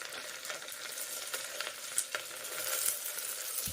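Onion and curry leaves sautéing in hot oil for tomato rasam, a steady close sizzle with a few soft stirring scrapes and light clinks, alone with no talk.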